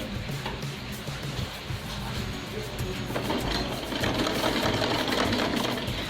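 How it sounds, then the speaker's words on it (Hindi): Sewing machine stitching a gathered frill into a strip of fabric, a steady fast mechanical whirr with rapid ticking that runs on continuously at moderate loudness. "सिलते जाएंगे। देखिए कुछ ऐसे।"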